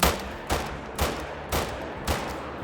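A new DLC rifle in theHunter fires at tahr on Te Awaroa, five loud booming shots evenly spaced about half a second apart, each with a short decaying tail.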